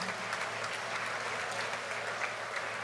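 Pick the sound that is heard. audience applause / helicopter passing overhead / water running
audience applause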